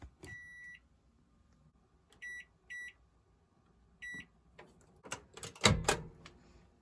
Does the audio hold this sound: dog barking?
no